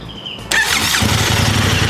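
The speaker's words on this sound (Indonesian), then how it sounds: "kita nyalain dulu motornya" A motorcycle engine is started. There is a short starter whir, then the engine catches and settles into a loud, steady, close idle.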